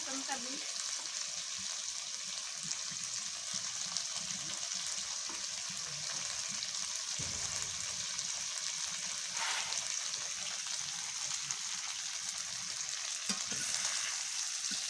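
Local potatoes simmer with added water in a pan, giving a soft, continuous sizzle and bubbling with occasional faint stirring scrapes, low in level and steady throughout.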